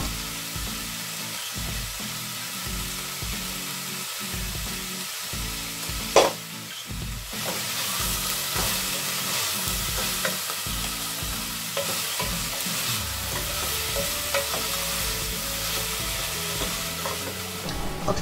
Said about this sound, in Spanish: Añadimos sal al gusto para que nuestras verduritas empiecen a sudar